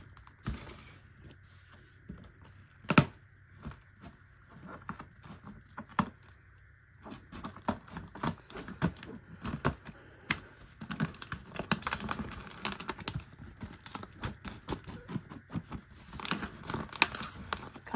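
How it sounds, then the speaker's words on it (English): Close, irregular snipping and tearing as scissors cut open a doll's cardboard box and tape, with crinkling and rustling throughout, growing busier after the first few seconds. "I usually just take scissors and open it as normal."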